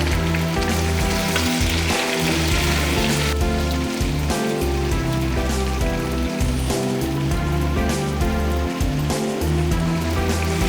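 Chicken pieces with tomatoes and green chillies fry in a pan, giving a steady, dense sizzle and crackle that runs unbroken throughout, with low background music and no talk.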